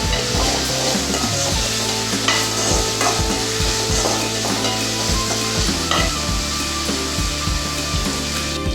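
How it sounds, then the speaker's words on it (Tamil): Onions sizzle loudly in a pan with rock salt, a dense steady frying hiss with repeated stirring scrapes and clinks running throughout, with no talking. "வெங்காயத்துக்கு கூட நம்ம கல்லுப்பு சேர்த்து நம்ம தாளிப்புக்கு இது பண்ணோம்னா வெங்காயம் நல்லா வதங்கி வரும்."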